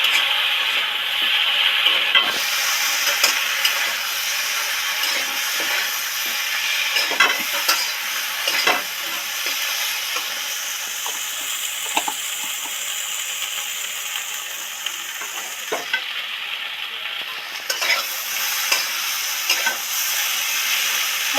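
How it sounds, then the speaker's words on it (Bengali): Chili and turmeric powder fry in a pan for a home-style hilsa fish curry, a steady close sizzle with scraping stirs and clinks of the spoon throughout, no voices. "এক চামচ লঙ্কা আর এক চামচ হলুদ গুঁড়ো দিয়ে ভালো করে নেড়ে ছেড়ে মিশিয়ে দেবো"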